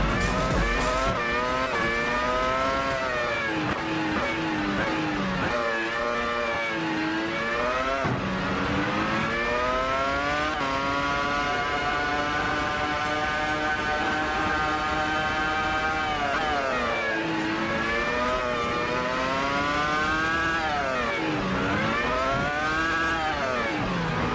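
Williams FW26 Formula 1 car in a racing video game, a loud high-pitched engine note rising and falling through repeated upshifts and accelerations, steady and close, with no voices.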